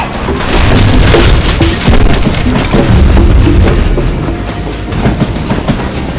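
Moving train in the Western shooter game Call of Juarez: Gunslinger, a loud continuous rumble with rattling wagon clatter and occasional heavy thuds, steady throughout with no talk.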